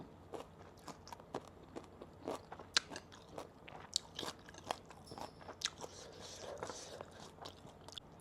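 Someone bites and chews ripe seasonal mango, a series of close, wet crunching bites and chewing sounds with a faint voice in the background.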